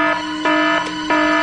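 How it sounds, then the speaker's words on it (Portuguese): Alarm in a Power Rangers episode, a loud steady electronic tone that pulses in repeated bursts roughly every third of a second, with no voices. "O alarme!"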